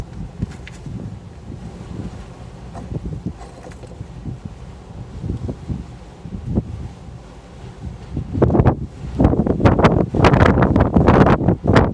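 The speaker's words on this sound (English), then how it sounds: "Too windy for the bees today." Strong wind buffets the microphone over a beekeeping site, a steady low roar that rises into loud, gusty blasts near the end, with no voices.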